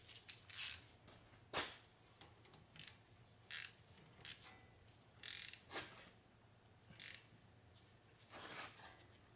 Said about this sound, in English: So now I'm gonna tighten the caliper bolt.